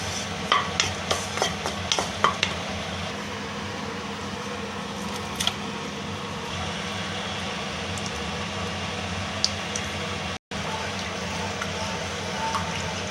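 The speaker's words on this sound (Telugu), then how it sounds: "ఈ చింతపండు అనేది కూడా లైట్గా వేపుతా ఉన్నాను ఫ్రెండ్స్." Tamarind is lightly roasted in a pan and stirred, giving a steady low sizzle and hiss with a few sharp scraping clicks near the start, close and continuous.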